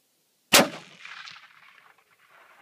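A single sharp rifle shot fired at a deer near a feeder on a hunt, very loud and sudden, followed by a long rolling echo that fades outdoors.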